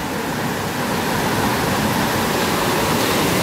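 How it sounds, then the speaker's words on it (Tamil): Water gushing out of a dam shutter at Pechiparai Dam in Kanyakumari, a loud, steady, dense roar of rushing water with no breaks. "இதுதான் வந்து ஷட்டர்ல இருந்து தண்ணி வெளியே வர்றது."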